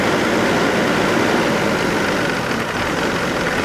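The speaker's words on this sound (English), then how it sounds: "I started the engine, and she's doing great right now." A Mercedes coupe engine idles with a steady, loud, close rumble and no variation. The car is prone to shutting down after running for about a minute.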